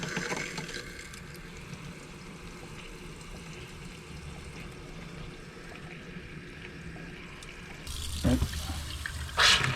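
Water runs steadily from a hot water tap with a constant hiss and splash, growing louder and fuller near the end as the flow strengthens.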